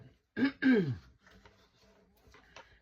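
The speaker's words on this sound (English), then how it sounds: "Please excuse me coughing, I'm still getting over a cold." Two loud, harsh coughs close up from a person recovering from a cold, one right after the other, followed by quiet rustling and faint background noise.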